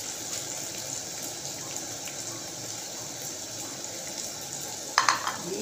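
Cardamom, cloves, cinnamon and cumin frying in a pan, a steady close sizzle throughout, with a few sharp clinks of a utensil near the end.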